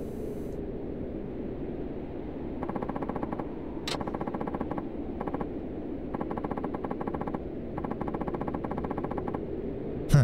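Horizontal double rifle shots fired in the Yakuza 5 video game, heard as repeated bursts of quick gunfire that start and stop several times over a low steady ambience, fairly faint overall.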